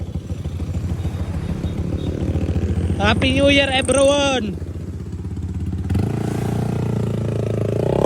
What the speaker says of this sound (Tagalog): Ilalabas na natin yung motor. Sa sound check na natin.